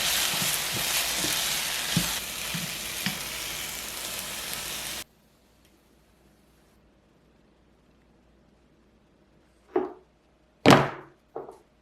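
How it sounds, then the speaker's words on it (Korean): Vegetables stir-frying in oil over medium-high heat give a steady, fairly loud sizzle for about five seconds. Quiet follows, then two short knocks near the end. "중강불에서 빠르게 볶아낼게요"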